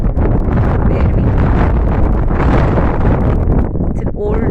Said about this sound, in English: very windy here, very pleasant